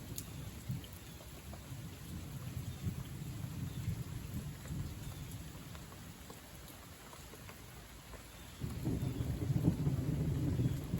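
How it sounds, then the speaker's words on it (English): Steady rain pours down under sunshine outside a barndominium with a wraparound porch, a low rumble of thunder swelling near the end, with no talking. "we're getting some rain"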